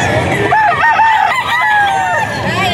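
A rooster crows loudly nearby, one long drawn-out call with a wavering pitch over a noisy outdoor background.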